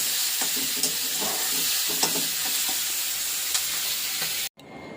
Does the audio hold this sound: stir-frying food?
yes